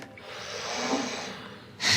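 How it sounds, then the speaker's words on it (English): A grumpy bulldog with facial tremors snores while asleep: a raspy, breathy rumble held for over a second, ending in a louder sharp snort, close by with no talking. "And I can hear her snoring."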